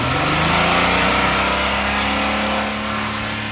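Nissan Maxima engine revving steadily at around 4,000 RPM while being diagnosed for a fault code, a loud continuous drone with a slight drop in level near the end.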